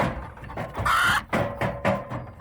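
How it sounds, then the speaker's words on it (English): A chicken clucks inside a cage in a woodshed kitchen, a close, loud run of short squawking clucks with one longer strident call in the middle. "What's that chicken doing in there, eh?"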